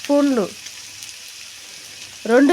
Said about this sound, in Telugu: బాగా ఎర్రంగా వచ్చే వరకు వేగనియ్యాలండి